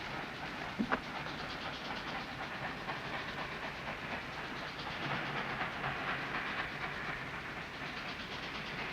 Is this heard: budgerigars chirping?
no